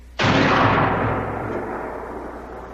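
A single gunshot cracks out abruptly, loud and close, then rolls into a long fading echo that trails off over a couple of seconds.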